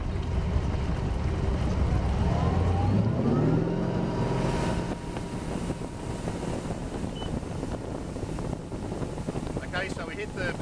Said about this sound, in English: we hit the predetermined launch curve and now we're cruising at exactly the same time and pulling the skier in exactly the same way every time